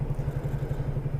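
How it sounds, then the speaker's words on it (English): Loud, throaty exhaust drone from a car with a split flex pipe on one of the downpipes, a steady pulsing low rumble close by with no talk. "The flex pipe is split on it, so it's rather loud at the moment."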